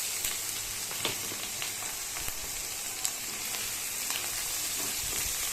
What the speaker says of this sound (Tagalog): Ang mushroom ay matindi tumalsik kaya aluluin nyo.